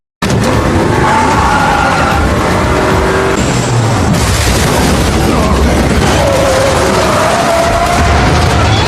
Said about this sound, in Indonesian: Jacob terus dikejar puluhan mobil